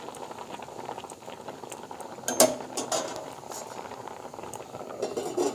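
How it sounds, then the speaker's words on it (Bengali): Water with corn in a pot bubbling at a steady boil, a close, continuous gurgling hiss broken by a brief clink of a spoon against the pot. "ভালো মতন ফুটে উঠেছে"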